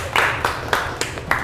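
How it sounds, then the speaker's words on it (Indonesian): A class claps in a room, a few quick bursts of hand claps in a loose rhythm, fairly close and moderately loud, with no talking over it. "Beri tepuk tangan tuh kalian semuanya."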